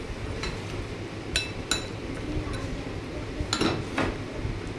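A spoon mixes moong dal with sugar and salt in a bowl, making scattered light clinks and taps against the dish over a steady background hiss.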